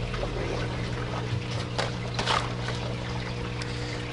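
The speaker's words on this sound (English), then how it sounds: "So the water flows from the clay bed through the rafts and then by gravity back into a sump tank down here" Water trickles steadily through the raft beds of a backyard aquaponics garden kit, flowing down by gravity to a sump tank, with a constant close wash of flow over a low mechanical hum.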